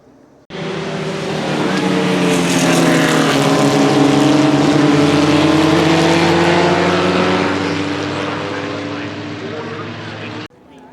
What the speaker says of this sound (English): We just had our first car come down.